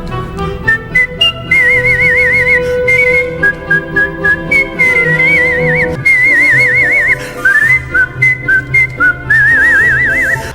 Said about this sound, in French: L'homme capable de siffler comme vous n'avez jamais entendu personne le faire.